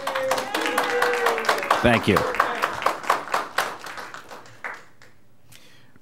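Applause for a delegate at a chamber debate, a modest run of separate, close hand claps that thins out and stops as a voice speaks over it.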